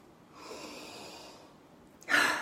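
A slow, deep breath drawn in through the nose over a little Stress Away essential oil, a soft steady airy hiss followed by a brief louder sniff at the end, close and alone with no talking.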